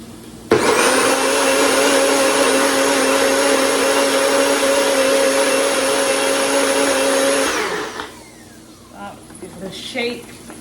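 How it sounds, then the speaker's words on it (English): A countertop blender purees a sauce for pork flautas, running loud and steady for about seven seconds before winding down, with faint clatter afterward. "Now we're going to blend this until it is a smooth sauce"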